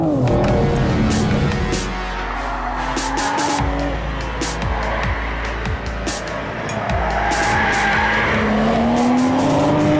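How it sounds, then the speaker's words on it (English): A 2021 BMW 4 Series coupe is driven hard through corners, its engine rising and falling with throttle as tires squeal and skid repeatedly, loud and close throughout. "you steer the car through the corners, not only with the steering wheel, but also with the throttle"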